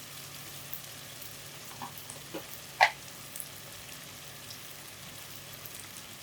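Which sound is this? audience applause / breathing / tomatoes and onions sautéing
tomatoes and onions sautéing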